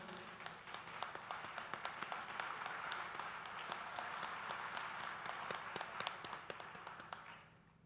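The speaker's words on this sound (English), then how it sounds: "A hearty round of applause to the parents of the graduating students." A large audience at a university convocation ceremony in Dubai gives a sustained round of applause for the parents of graduating students, dense steady clapping with a few sharper claps, fading out at the end.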